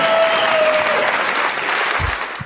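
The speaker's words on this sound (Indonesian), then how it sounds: "tepuk tangan dulu lah host" A hall audience claps for a guest in a short, dense burst of applause that holds steady and cuts off sharply at the end.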